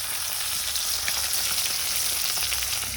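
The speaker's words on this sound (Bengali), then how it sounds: "এদিকে হচ্ছে মাছ ভাজা হচ্ছে।" Fish frying in a pan in a home kitchen, a steady, close, dense sizzle with a constant crackling hiss and no voices.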